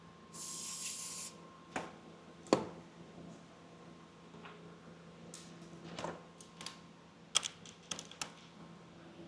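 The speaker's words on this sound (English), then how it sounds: "I just sprayed highly flammable brake fluid on it" A spray can of brake fluid gives a short, close hiss at the start, followed by scattered taps and clicks from work on a vehicle.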